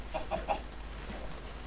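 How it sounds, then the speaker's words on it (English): A Minecraft chicken clucks in three or four quick, close bursts, followed by softer, higher chirps, all over a quiet background hum. "That's a duck."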